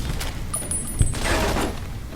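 Rapid, continuous turret gunfire in Fallout: New Vegas, a dense rattling volley with one sharper thump in the middle, fairly loud and with no voice over it.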